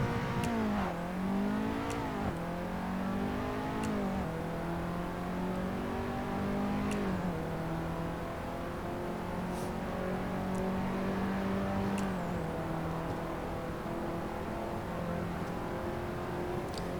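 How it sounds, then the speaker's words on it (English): A car engine in the Assetto Corsa racing game revs hard through the gears to maximum RPM, repeatedly climbing in pitch, dipping at each shift and climbing again, a steady synthetic drone with no talk. "going to actually run first gear all the way up to its maximum RPM."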